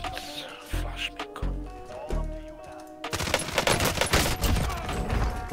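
Gunfire in Call of Duty Warzone, a few separate shots early on, then a dense burst of rapid automatic fire and explosions filling the second half, with in-game noise and no clear talk.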